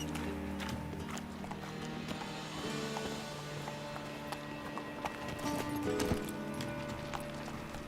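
Roach the horse galloping in Witcher 3, steady clip-clop hoofbeats running continuously under a dense game soundscape of music and ambience.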